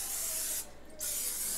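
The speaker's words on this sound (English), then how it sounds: "I'm gonna spray both of these." Two hissing bursts of cooking spray misted onto baking dishes in a home kitchen, the first longer and the second short after a brief pause, close and fairly quiet.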